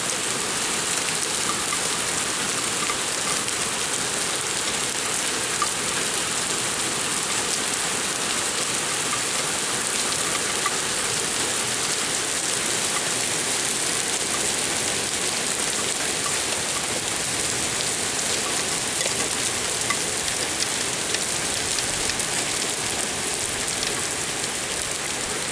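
Heavy rain pours down steadily during a night thunderstorm with hail, a dense, even hiss of drops hitting surfaces that continues unbroken without speech or distinct thunderclaps.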